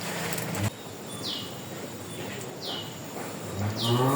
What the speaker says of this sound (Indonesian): di sini banyak sekali sapi